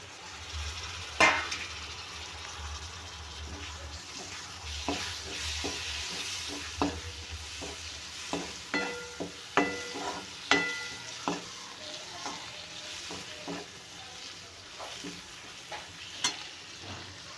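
Vegetables and tomatoes sautéing in a pan with gentle continuous sizzling, while a spatula scrapes and taps against the pan in an uneven rhythm that grows busier midway, all close and without talk.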